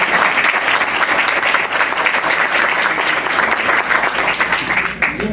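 Loud, dense applause from the audience at a book presentation, continuous and close, holding steady before easing slightly at the end.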